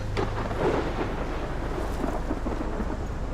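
A thunderstorm in the video game Life Is Strange, with continuous rain and a low rolling thunder rumble that stays steady and fairly loud throughout, with no speech.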